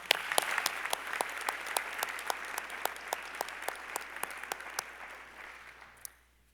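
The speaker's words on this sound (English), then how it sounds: "Please feel free to applaud." Steady applause fills a medical school commencement hall, moderately distant, with sharp individual claps standing out over the wash before it fades away near the end.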